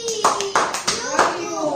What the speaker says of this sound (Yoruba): Ẹ pa àtẹ́wọ́ fúnra yín.